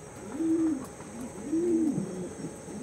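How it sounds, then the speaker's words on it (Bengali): A purebred Pulsar pigeon coos twice in low, rounded phrases, close and fairly quiet, over a faint steady background hum. "পিওর পালসার বিটের পায়রা"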